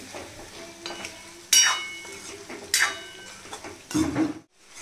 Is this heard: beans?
yes